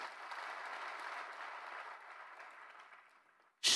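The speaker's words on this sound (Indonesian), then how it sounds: "Tepuk tangan lebih keras lagi." A church congregation claps during a sermon, a soft, spread-out patter of many hands that slowly thins and fades, followed by a sudden loud burst at the very end.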